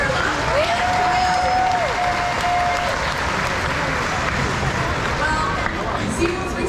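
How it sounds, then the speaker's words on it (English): At a SeaWorld killer whale show, a large stadium crowd applauds in a dense, steady wash, with a faint tone and background music running beneath the clapping. "How about a round of applause for our 2 male killer whales, Trula and Makayo?"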